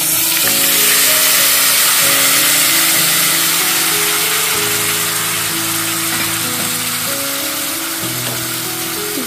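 Marinated cauliflower hits hot oil in a pan for a Bengali cauliflower roast, setting off a loud, steady sizzle and frying crackle that holds for the whole stretch without talk.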